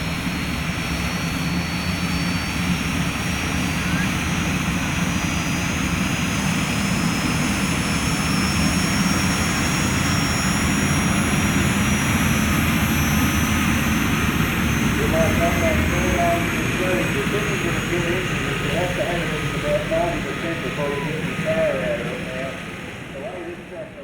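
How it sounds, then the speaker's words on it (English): A jet engine powered vehicle roars loud and close in a long sustained blast that holds steady for most of the stretch, then begins to ease off near the end, with no talking over it. "like with most of the jet-based engines, they tend to take a little while to come on"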